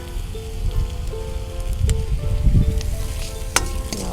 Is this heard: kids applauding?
no